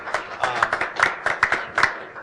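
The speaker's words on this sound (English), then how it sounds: "Let's give a round of applause to our kind hosts here tonight." Audience applause for the event hosts at a tech innovation panel evening, a short run of scattered, moderately quiet hand clapping in uneven bursts, with no voices over it.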